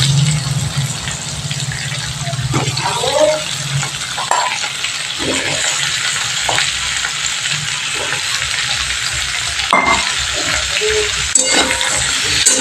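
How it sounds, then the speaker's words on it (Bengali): Close, continuous sizzling of carrot, tomato, capsicum and potato frying in butter, with brief stirring clatters and scrapes scattered throughout. "বাটির মধ্যে কেটে রাখা গাজর টমেটো ক্যাপসিকাম আলু সব কিছু আমি বাটারের মধ্যে দিয়ে দিলাম ভালো করে ভাজার জন্য"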